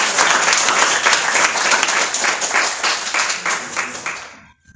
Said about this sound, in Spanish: ¿Cuántos pueden dar un aplauso fuerte a su Cristo?